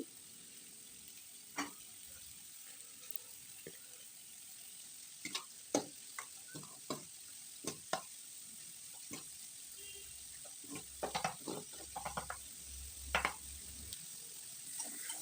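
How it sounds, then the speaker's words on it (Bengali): Pumpkin, beans and potato curry fries quietly in a pan, a soft low sizzle broken by scattered clicks and scrapes of stirring, with a brief watery rush near the end. "সবজিটা ভাজা হয়ে এসছে।"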